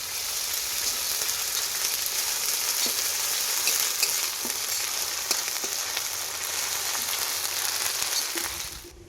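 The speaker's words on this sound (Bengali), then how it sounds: "আদা রসুন পেস্টটাও ভাজা হয়ে গেছে" Ginger garlic paste frying with marinated chicken for a green chicken dish, a steady close sizzle with crackling pops that holds evenly throughout and cuts off at the very end.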